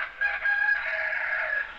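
A rooster crows once, loud and close, in a single drawn-out cock-a-doodle-doo lasting nearly two seconds, with nothing else audible around it.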